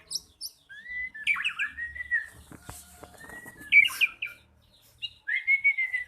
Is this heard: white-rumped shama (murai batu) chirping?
yes